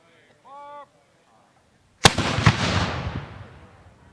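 Flintlock muskets fire one sharp volley at a Bennington battle reenactment, a loud crack with a long rumbling echo that slowly fades, after a brief spoken command.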